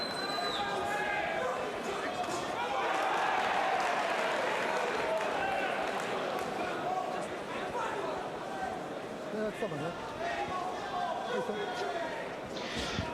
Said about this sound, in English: this Zwickau Town Hall crowd thoroughly getting behind Hoffman